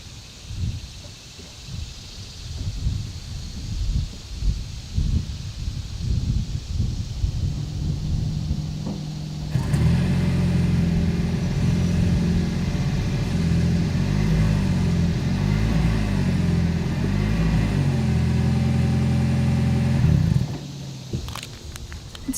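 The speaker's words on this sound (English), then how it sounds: "As always, here is that exhaust clip." A 2020 Toyota Avalon Hybrid sedan with a hidden single exhaust outlet starting up and idling, a quiet rustling lead-in followed by a steady, low engine hum that holds for about ten seconds and then cuts off.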